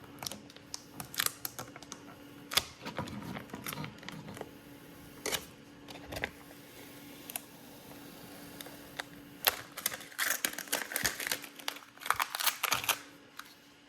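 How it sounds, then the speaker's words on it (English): Transfer tape is peeled off a vinyl blackout overlay on a VW front badge, giving a series of close, crisp crackling and ticking bursts with brief quiet gaps between them. "So now, we peel away this transfer tape."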